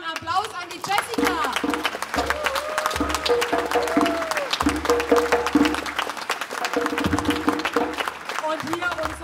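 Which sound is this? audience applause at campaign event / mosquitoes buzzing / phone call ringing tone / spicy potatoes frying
audience applause at campaign event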